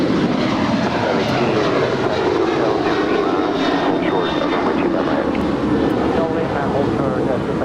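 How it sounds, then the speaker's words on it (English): A United Airlines Boeing 737-900ER departs LAX with a loud, broad jet engine roar that holds steady and close throughout, while a voice talks underneath. "This is United Airlines 296 departing to Washington Dulles. It's a 737-900ER."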